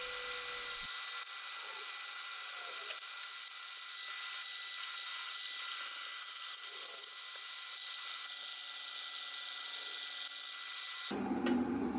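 A milling machine cuts grooves into a Damascus steel knife blank (N690 and 440C layers), giving a steady, high-pitched whine that runs unbroken and stays fairly faint, then shifts abruptly just before the end.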